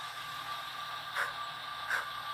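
An HO scale Rivarossi Big Boy UP 4014 model steam locomotive with DCC sound chuffing at speed step 1, two slow, faint exhaust puffs over a steady low mechanical hum, heard alone.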